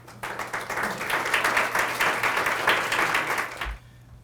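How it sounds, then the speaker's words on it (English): Steady, moderately loud applause from an audience after a reading event, an even patter of many hands clapping for about three and a half seconds before cutting off into quiet. "one more round of applause for all the people that read tonight"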